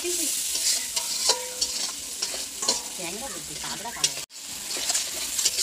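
Crab stir-fried in a pan with chili powder and a little water, a steady sizzle with frequent spatula scrapes and stirring knocks, loud and close, a brief break near the end.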